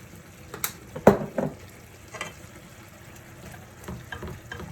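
Onions and thyme frying in a pan, a soft steady sizzle with a few brief stirring clatters and scrapes near the start, close by and without talk.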